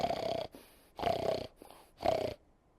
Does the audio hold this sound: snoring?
yes